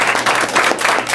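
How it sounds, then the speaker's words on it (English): Dense, loud audience applause for the teacher of the month at a school event, a continuous burst of many hands clapping close by. "clap that up one more time for Miss Teedy"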